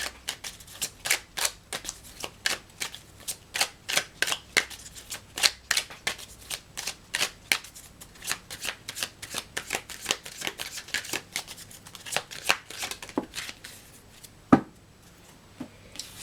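A deck of Sibyl's Oraculum oracle cards is shuffled by hand, a long run of crisp, close riffling and tapping bursts in an irregular rhythm, ending with one sharper knock.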